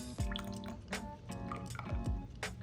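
Brake fluid poured into the brake reservoir of a 1990s Honda Civic, with several close, distinct drips and glugs of liquid in an irregular rhythm.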